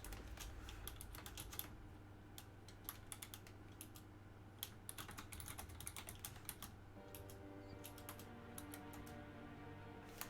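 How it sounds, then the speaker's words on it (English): Fast, irregular clicking of keys on a computer keyboard during a Dyson Sphere Program session, quiet and close over a soft steady hum and game tones, with no talking. "Can I type something in?"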